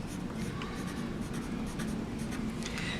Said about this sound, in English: I'm using a pencil.